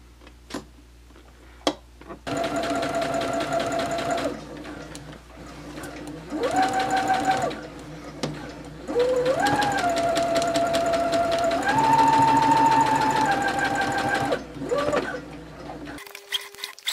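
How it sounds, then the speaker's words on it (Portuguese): A sewing machine stitches all the way around the edge of a flower-shaped patchwork fabric placemat, running in several steady whirring bursts with short pauses between them as the fabric is turned. "Aí agora eu vou passar uma costura aqui, ó. Em toda a volta. Vou pegar aqui e vou costurar."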